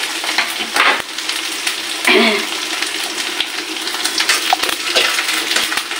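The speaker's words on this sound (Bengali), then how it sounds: "দিয়ে একটু ভালো করে নাড়াচাড়া দিয়ে একটু ভাজা ভাজা করে নেবো বন্ধুরা।" Sliced onions sizzle and crackle in a pan while being stirred, with scraping strokes of a spatula and brief louder bursts of frying standing out against a steady background hiss.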